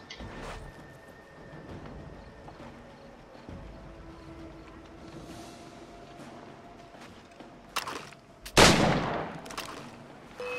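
Gunfire in the video game Assassin's Creed III: one loud, sharp period gunshot with a short rolling tail rises out of a quiet ambient game background near the end.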